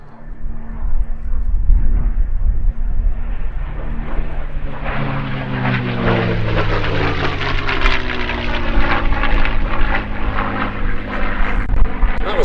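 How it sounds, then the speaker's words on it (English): A P-51D Mustang fighter makes a fast diving pass at a Sywell airshow, its piston engine and propeller roar building to a loud close drone, with a clear pitch drop as it goes by. "Here comes Mark Levy in P-51 Jersey Joke."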